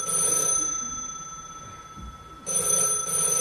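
A telephone bell rings in a house, a loud close electric trill lasting about half a second, then a pause of nearly two seconds before ringing again.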